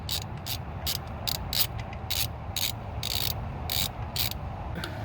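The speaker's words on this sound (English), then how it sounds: "attach your socket wrench afterwards to snug it up. Finish tightening up this other bolt." A socket wrench ratchet tightens a starter bolt on a 2001 Honda Accord, giving a steady series of quick close clicks in a regular rhythm, with no talking.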